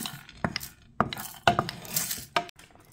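Dried chili and api being stirred and turned while toasting in a pan, with irregular scraping and knocking of the utensil against the pan, close by.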